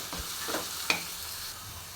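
Green beans and potato bhaji frying in a pan, a soft steady sizzle with a few quiet stirring scrapes and one light clink of the spoon, close and gentle.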